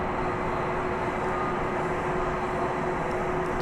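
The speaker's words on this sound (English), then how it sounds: "We will have, for your edification, Nippon Cargo Airways Flight 168 coming in from Anchorage." A Boeing 747 cargo jet, Nippon Cargo Airways, arrives at DFW Airport at night, heard as a steady distant broadband engine roar with a faint whine, no voices.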